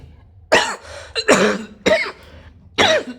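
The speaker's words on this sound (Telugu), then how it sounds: "దగ్గు ఎక్కువ వస్తుంది" A person coughs four times in close succession, harsh and near, with short pauses between the bursts.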